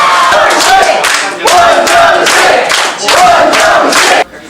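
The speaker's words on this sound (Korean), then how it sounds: "원정식 선수가 바벨을 번쩍 들어올리는 순간 박수와 환호성이 터집니다." Villagers gathered in the small hours to watch an Olympic weightlifting event burst into loud, close cheering and clapping as the barbell goes up, rising in three big surges before cutting off abruptly.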